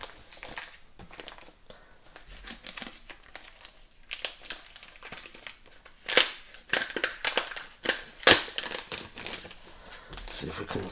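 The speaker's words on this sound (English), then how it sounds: "I'll open it up and unwrap it." An HP Envy x360 15 convertible laptop being unwrapped from its packaging, producing close, irregular crinkling and rustling of plastic and paper, with sharp crackles in scattered bursts.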